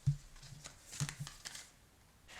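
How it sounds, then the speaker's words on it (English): Tarot cards being shuffled by hand, soft close riffles and taps in a few quick bursts, quiet and alone without talk. "I'm going to pause again so I can get a good shuffle."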